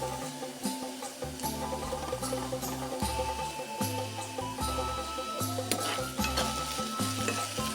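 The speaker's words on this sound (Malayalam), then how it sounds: "ഈ സമയത്ത് നമുക്ക് കുറച്ച് കറിവേപ്പില ചേർത്ത് കൊടുക്കാം" Brinjal stir-fry frying in an open pan with curry leaves added, a continuous close sizzle broken by frequent scraping stirs and clicks, with no talking.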